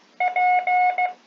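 The Morse code letter P: a short tonal beep pattern of a brief beep, two longer tones, then another brief beep, clear and close with no talking.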